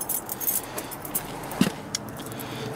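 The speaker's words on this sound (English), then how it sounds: "Too many keys." A bunch of keys jangles up close as someone sorts through it for the right one, with a run of bright metallic clinks and rattles over faint background rumble.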